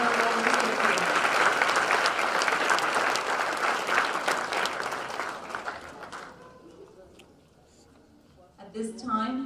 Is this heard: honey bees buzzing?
no